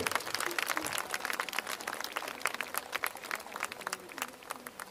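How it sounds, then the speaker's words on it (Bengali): An audience claps at a literary event in PC Chandra Garden, the dense crackle of many hands sustained and steady throughout, with a background voice mixed in. "একটু জোরে করতালি হবে।"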